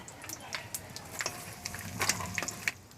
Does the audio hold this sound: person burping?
no